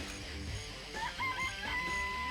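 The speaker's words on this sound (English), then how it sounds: "I remember there were some chickens in the chicken coop." Chickens cluck in a coop inside the video game Danganronpa: Trigger Happy Havoc, giving a few short squawking calls and a drawn-out crowing note over low background game ambience.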